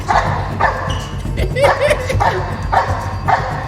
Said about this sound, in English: You're making a dog mad.